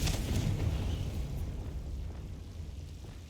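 The Confringo explosion spell from the video game Hogwarts Legacy goes off as a deep, loud booming blast that rumbles and slowly fades over about three seconds.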